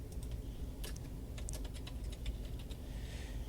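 Someone typing on a computer keyboard, a quiet run of irregular key clicks close by with a brief burst of faster taps near the end, over soft room hum.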